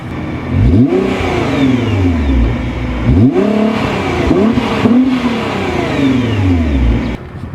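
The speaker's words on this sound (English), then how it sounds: "But here, I'll rev it up a little bit and see what it's like." A Nissan GT-R engine revs repeatedly from idle, several sharp rising throttle blips with falling decays, loud and close, with no talking.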